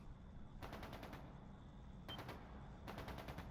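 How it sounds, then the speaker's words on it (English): Automatic gunfire in a Trails into Reverie military factory scene, three rapid rattling bursts, fairly faint and distant, spaced apart over a low steady background rumble. "まさか銃声なのか。"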